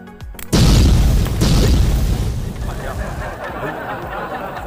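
A shaken and pierced beer can bursts with a sudden loud boom, then a long fizzing spray that slowly fades while voices chatter nearby.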